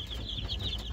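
Leghorn chicks, hatched from eggs brought from Kyrgyzstan, peep continuously in a high, shrill chorus, close and fairly loud, with overlapping chirps throughout.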